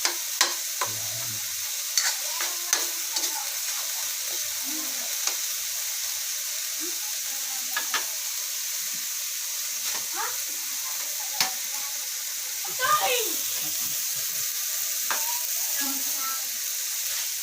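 Ground meat sautés for pakbet, a steady close sizzle broken by frequent scraping and stirring knocks of a spatula against the pan, with a brief clatter midway.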